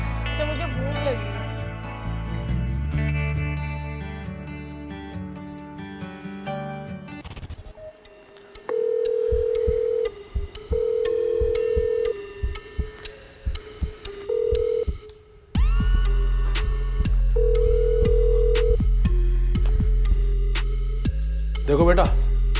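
A phone call goes unanswered, with dialing tones, then a repeated ringback tone in long even pulses separated by gaps, all heard through a handset alongside background music and voices.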